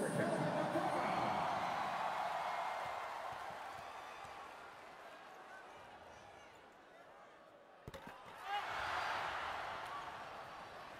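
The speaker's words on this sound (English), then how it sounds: "Hear the crowd living and dying on every free throw with Abueva." Basketball arena crowd at a FIBA World Cup game between the Philippines and Chinese Taipei reacting to free throws, a loud murmuring roar that fades, then a sharp thud and a swelling cheer near the end.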